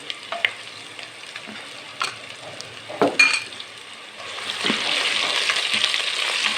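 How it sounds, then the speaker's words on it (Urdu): Ginger garlic paste frying in a pan with browned onions, a continuous sizzle that grows louder and denser toward the end, broken by a few sharp clinks and scrapes of a spoon stirring against the pan. "اب اس میں ہم ڈالیں گے ادرک لہسن کا پیسٹ ناظرین 1 چمچ، اور اس کو بھی ہم نے تھوڑا سا اس میں براؤن کرنا ہے۔"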